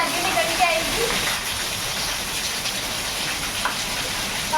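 Steady rain pours down with a continuous close hiss, and voices are faintly heard underneath.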